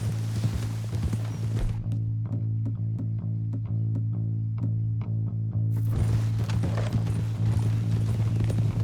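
Horse hooves gallop in Red Dead Redemption 2, with loud, close, rhythmic clip-clop beats and steady game ambience underneath.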